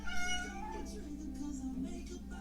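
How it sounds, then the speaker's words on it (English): A pet cat meows faintly at home during a makeup session, a soft drawn-out meow heard over low background hum. "Ignore my cat."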